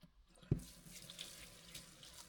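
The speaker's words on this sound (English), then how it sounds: "First of all, I'm going to give them a quick wash under the tap." Cleavers being rinsed under a running kitchen tap: a steady broadband rush of water with a brief thump near the start as the stems go under the stream, close and alone with no talking.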